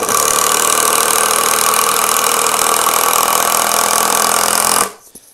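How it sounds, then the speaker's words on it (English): A cordless impact drill drives a 3-inch screw, a loud steady hammering whir that runs nearly five seconds before stopping abruptly. "And then we'll do this 3-inch as well"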